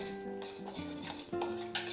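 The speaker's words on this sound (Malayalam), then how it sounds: "ഇനി ഇത് നന്നായിട്ടൊന്ന് മിക്സ് ചെയ്യണം." A spoon stirs a cornflour and water mixture in a bowl for red halwa, producing close, soft scraping and swishing strokes under quiet background music.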